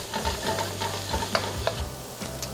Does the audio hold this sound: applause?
no